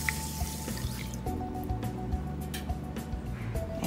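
Water poured into a pot of couscous on a stovetop, a steady trickling and dripping close by that runs the whole time, with no voices.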